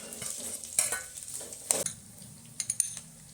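Potatoes are stirred into a frying pan of poha with peanut powder, giving a steady sizzle broken by several sharp scrapes and clinks of a spoon against the pan, close and fairly loud with no talking.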